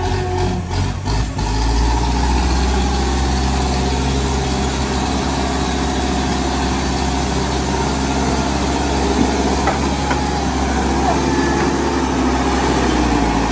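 A tractor engine runs steadily throughout while being used to fix a road, a loud, continuous low diesel rumble with a brief rougher patch at the start and no talk.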